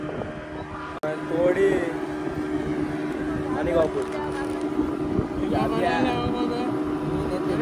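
A boat's motor runs with a steady droning hum throughout while people talk nearby over it.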